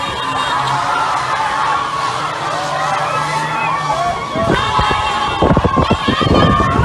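Dense crowd shouting and yelling in the streets of Bamenda during unrest after people were shot, voices overlapping loudly throughout, with sharper whoops and bursts of shouting near the end.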